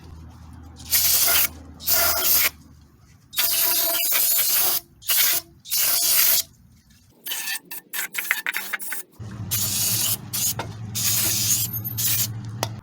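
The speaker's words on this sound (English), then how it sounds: "We're gonna clean the intake manifold here." Aerosol cleaner is sprayed onto a Nissan Titan intake manifold in repeated close, loud hissing bursts of varying length, separated by short pauses.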